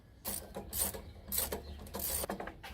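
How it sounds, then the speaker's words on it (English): Ratchet wrench on a 15 mm bolt of an AC compressor on an 88-98 Chevy C/K 1500 pickup, giving several close, loud bursts of rapid clicking separated by short pauses. "Next, we're going to remove this bolt, 15 mil."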